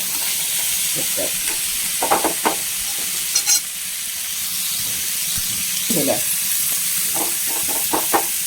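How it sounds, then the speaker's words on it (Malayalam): Pappadams frying in hot oil for a homestyle Kerala curry meal, giving a steady hiss with short bursts of crackling and stirring clatter. Occasional faint voice sounds drift in the background. "ഇനി നമുക്ക് രണ്ട് പപ്പടം കൂടി വറക്കണം"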